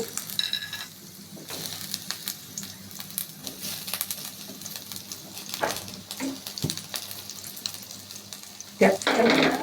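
Capsicum frying in a pan while vegetable lentils are cooked, giving a steady soft sizzle with scattered stirring clinks and a louder clatter near the end, with no talking.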